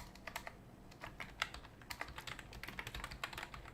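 Code is typed on a computer keyboard in quick, irregular bursts of sharp key clicks, close and clear with no speech over them.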